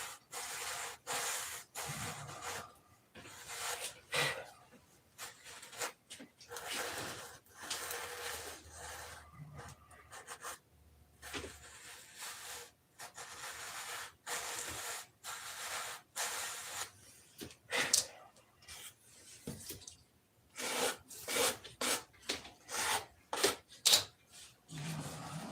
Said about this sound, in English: I won't disc sand it, I'll just hand sand it